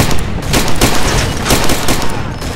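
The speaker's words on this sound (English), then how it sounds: "Sound like a big gun." Heavy gunfire from a big gun in the shooter game Far Cry 2: dense, loud bursts of booming shots rolling one into the next for the full stretch, with no talk over it.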